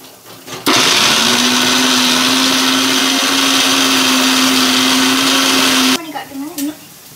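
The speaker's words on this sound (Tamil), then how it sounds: "இப்போ மிக்சியில் நம்ம அரைக்க போகிறோம்" A mixer grinder blends mushroom gravy paste in a kitchen. It snaps on into a loud, steady whirring drone for about five seconds, then cuts off abruptly into quieter rattles.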